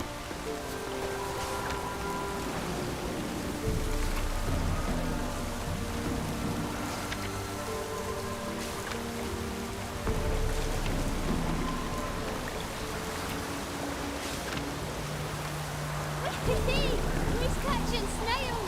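Rain falls steadily in The Witcher 3 game, a soft continuous patter under background music and game ambience, with characters talking quietly through the scene.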